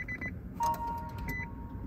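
A Nissan LEAF with a gearbox error and iKey system fault powering on in cold weather, giving a few short electronic clicks and a steady beep tone over a low hum, close by.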